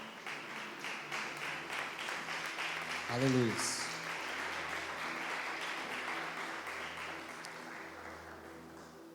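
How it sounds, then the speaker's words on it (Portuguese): A church congregation claps and applauds steadily for several seconds, a dense wash of hands beneath a voice and sustained low musical tones. "glorifiquem a Deus com as suas palmas"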